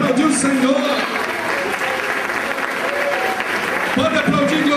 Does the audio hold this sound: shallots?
no